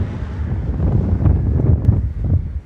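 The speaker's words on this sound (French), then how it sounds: "Parce qu'il y a du vent." Wind blowing on a roadside in the Dolomites mountains, a steady close rush buffeting the microphone with low rumbling gusts throughout, and no voices.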